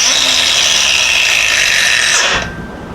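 Hercules 20V cordless brushless 4 1/2 inch angle grinder running steady with a loud, even whine, then spinning down and fading after about two and a half seconds; no talking.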